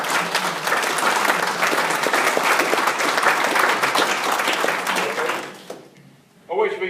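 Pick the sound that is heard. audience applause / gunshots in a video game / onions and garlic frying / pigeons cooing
audience applause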